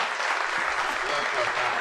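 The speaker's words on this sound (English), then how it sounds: "give a round of applause right now" A short burst of crowd applause, dense steady clapping heard close and fairly loud.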